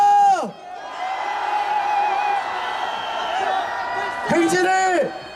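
A crowd gathered for a protest march in Korea lets out a loud, sustained collective shout, with whoops and yells rising over the mass of voices and a second swell near the end.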